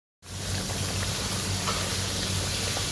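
Curry sautéing in a pan gives a loud, close, continuous sizzle with faint stirring scrapes, starting abruptly and holding steady with no voices.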